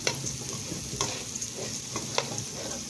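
Rice fries gently in a pan while being stirred, a soft continuous sizzle broken by a few light scraping strokes at regular intervals.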